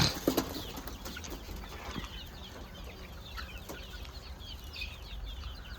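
Two-month-old native country chickens kept in a shed cluck and chirp in short, scattered calls over a steady low background, with a brief flutter of wings near the start.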